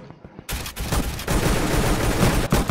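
Sustained automatic gunfire from a gun in the shooter game Arsenal, starting after a short quiet lead-in and rattling on loud and close with brief gaps, no talk over it.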